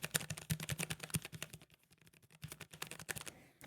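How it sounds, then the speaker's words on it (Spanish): Fast, steady key clacks from a Keychron K3 mechanical keyboard, close and fairly soft, with a short pause in the middle before the typing resumes. "Es un teclado mecánico y aún así no suena tanto"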